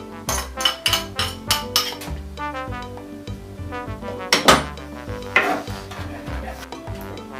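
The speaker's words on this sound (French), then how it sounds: "on prend notre jambon, on va tout simplement émincer assez grossièrement. Pareil avec notre lard." Ham and bacon coarsely sliced with a knife on a board give a run of sharp, close chopping knocks in an irregular rhythm, loud and distinct, with no speech.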